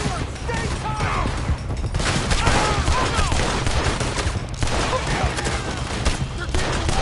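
Heavy gunfire rattles through a shootout in the video game Red Dead Redemption 2, dense overlapping shots and bursts running continuously and loud up close, with no clear voices over the barrage.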